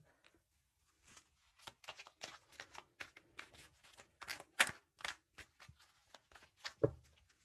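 A deck of tarot cards is shuffled close up in a series of quick riffling bursts and soft slaps, irregular and crisp against near silence, ending with a duller knock.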